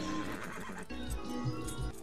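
A horse in the video game Red Dead Redemption 2 gives a fairly quiet whinny, mixed with clip-clopping hooves and game background sound, with no talk.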